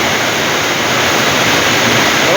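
Heavy rain pours down steadily in a dense, loud, unbroken hiss, with no pauses or other sounds.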